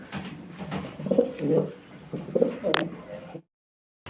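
Several close pigeons coo in low, throaty bursts, with a faint voice in the background, before the sound cuts to silence near the end.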